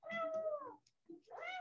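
A cat meows twice close by, a drawn-out falling meow followed after a short pause by a brief chirp and another rising meow, clear and alone.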